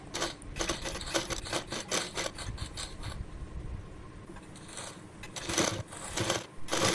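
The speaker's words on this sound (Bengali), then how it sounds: "তারপর হাতার মেন কাপড়টা নিয়ে তার উপর কুচিটা বসিয়ে সেলাই করে নেব।" A sewing machine stitches a frill onto sleeve fabric, a close rapid mechanical rattle in bursts that stops briefly partway through and then starts again, with no talk.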